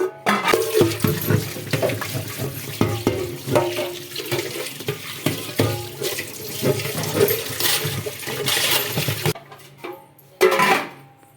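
Running water splashes over cleaned tins being washed, with clattering metal knocks and scrubbing, uneven and close, pausing briefly near the end before another burst of water.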